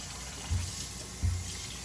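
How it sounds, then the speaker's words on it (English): Cold water pours steadily from a tap over rice in a strainer, a continuous close rushing flow with a couple of soft thumps. "So grab it, put it over here, strain that rice."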